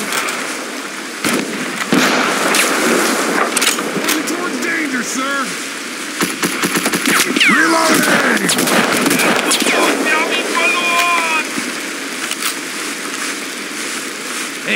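Gunfire in the WWII video game Mud and Blood, with scattered shots and bursts rattling through a hedgerow firefight over steady battle noise, while voices talk over the action throughout.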